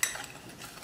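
A spoon briefly stirs ginger powder, black pepper, salt and parsley flakes together in a bowl, a short close scrape and clink followed by soft rubbing for under a second.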